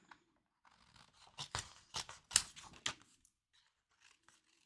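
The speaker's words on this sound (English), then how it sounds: "So just basically grab your scissors, chop each of them down." Scissors chopping through embossed paper pieces, a run of sharp close snips in an irregular burst, quiet and alone.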